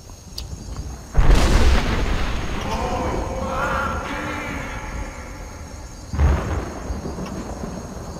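A deep, rumbling thunder-like boom erupts in Skyrim, rolls on for several seconds and is followed by a second, softer boom. No one speaks.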